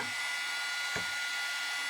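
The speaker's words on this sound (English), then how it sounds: "So just hit it with the heater." A heat tool for embossing blows hot air in a continuous, even, close-up whoosh, with a single faint tap near the middle.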